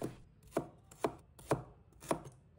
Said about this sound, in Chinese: 几个红葱头，把它切成小块。